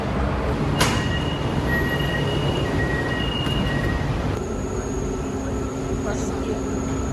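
An MRT metro train at an underground station in Kuala Lumpur, a loud rumbling rush of the train with high electronic tones and chimes, platform bustle and a whoosh partway through.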